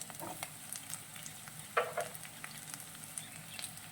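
Onions, carrots and potatoes fry in a pan for poha upma, giving a soft, steady sizzle with a few scraping stir clicks, heard alone without voices.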